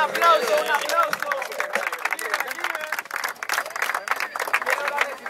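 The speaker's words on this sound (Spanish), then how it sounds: "¡Un aplauso, un aplauso!" Crowd applause and cheering at a women's freestyle rap battle quarterfinal, a dense continuous roar of clapping and shouts that stays loud throughout, with some voices mixed into the noise.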